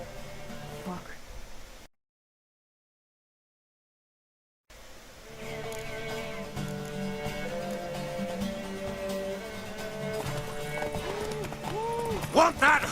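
A horse gallops in The Witcher 3 during a race, rhythmic hoofbeats running under steady game music, broken by a brief silent gap before resuming, with no talk.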